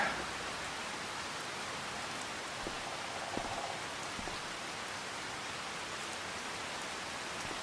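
Steady rain falls across a Louisiana farm in Farming Simulator 25, a dense, even hiss of drops on surfaces with a few faint taps, continuous and alone.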